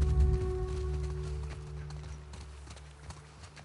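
Horse hooves clip-clop on the ground in The Last of Us Part II, a close, fading run of steady footfalls over a low ambient drone, with no talking.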